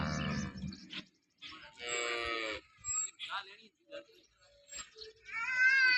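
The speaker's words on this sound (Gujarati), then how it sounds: "તમામ ગાયો આપણી પાસે આજે લોકલ ગાયો હાજરમાં છે" Local Banaskantha cows lowing in a farm shed, several drawn-out moos overlapping one another at close to moderate distance with short pauses between calls.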